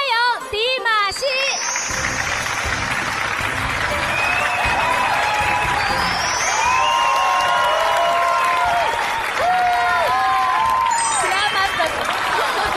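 An audience at a televised Spring Festival gala applauds to welcome a performer, loud sustained clapping with some cheering, while a host's voice and music carry over it.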